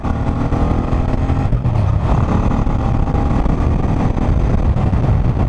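A 36-year-old Suzuki VX800 motorcycle being ridden, its engine droning loud and steady, close up, with wind rush and no talking.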